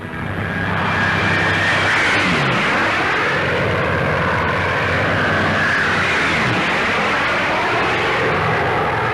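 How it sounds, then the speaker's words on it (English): American-built Boston III bombers of the RAF in flight: loud, continuous propeller-engine drone that fills the whole stretch, with slow shifts in pitch as the aircraft pass. "From many stations, these American-built bombers fly on raids against military targets in enemy-held territory across the Channel."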